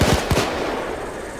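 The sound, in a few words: pistol gunfire in video game Payday 2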